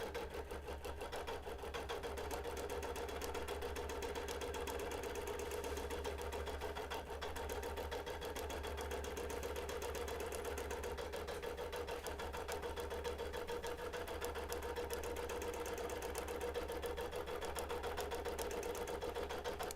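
A longarm quilting machine stitching a pieced quilt backing hums and buzzes steadily and evenly throughout, fairly faint and with no pauses.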